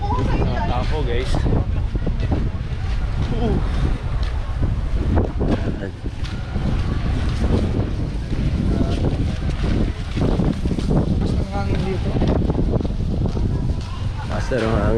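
Strong beach wind on Boracay, Philippines, roars and buffets the microphone in a constant rushing blast, with faint indistinct voices buried underneath.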